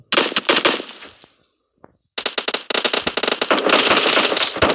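Rapid automatic gunfire in an online shooter game comes in loud, crackling bursts. A short quiet gap falls near the two-second mark, then dense fire resumes and keeps going to the end.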